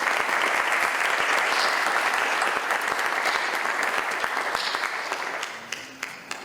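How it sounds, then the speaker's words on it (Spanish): A conference audience applauds after a talk with a dense, sustained wash of clapping. It stays loud for several seconds, then thins to a few scattered claps at the end. "muchísimas gracias por el aplauso"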